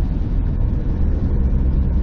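Cabin view of a cheap used car accelerating through its gears, a dense, loud low-pitched engine and road roar holding steady throughout, with a slight dip partway as a gear change passes.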